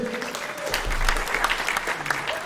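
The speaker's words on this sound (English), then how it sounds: "one more round of applause for Ben and Rudy" An audience gives a warm round of applause for a football manager and players at an exclusive meet-the-manager event, dense steady clapping that holds throughout, close and moderately loud, with a little crowd murmur mixed in.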